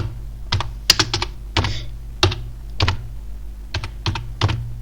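Computer keyboard typing while writing HTML code, a slow, uneven run of close, crisp key clicks in small clusters with short gaps, no voice over it.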